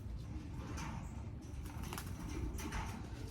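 Racing pigeons in a loft give soft, low cooing throughout, half-buried in steady background rumble and faint rustling, with no talking.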